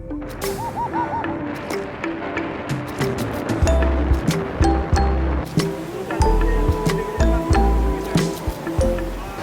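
A mountain stream flows along the roadside on the way toward Chandratal lake, near Kunzum pass, its water rushing and splashing steadily and close, with scattered clinks and low thuds throughout.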